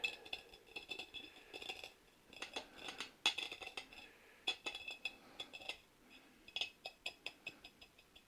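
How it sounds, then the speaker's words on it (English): A drinking glass has its damp rim rolled through granulated sugar, giving faint, close gritty scrapes and light clinks of glass in irregular bursts, with no talking. "We're going to take some granulated sugar and roll the glass through it."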